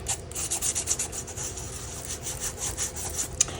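Two-tone cardstock rubbed by hand to wear away its raised stamped areas, a soft steady scratchy rasping in quick repeated strokes, close and quiet with no talking.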